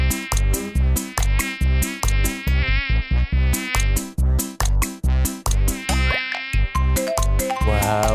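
A fly buzzes in rapid, pulsing bursts, loud and close, with no talk over it, in a satirical television comedy.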